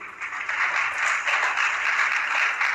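A spiritual discourse audience applauds steadily, a dense wash of many hands clapping at once, loud and continuous, with no voices over it.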